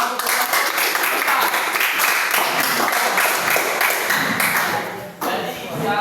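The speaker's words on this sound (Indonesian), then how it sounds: "Tepuk tangan untuk kelompok" A classroom audience claps for group 4 after their presentation, a dense, loud burst of applause lasting about five seconds before it suddenly drops and then trails off.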